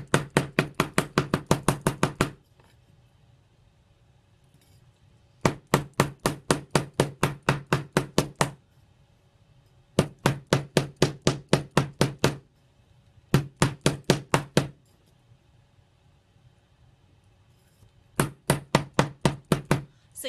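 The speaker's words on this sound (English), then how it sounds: "So you do want to be careful hammering around the loops" Someone hammers a small metal jewelry piece with loops, striking in quick bursts of about ten crisp taps each, separated by pauses of a couple of seconds, close and clear with no talking.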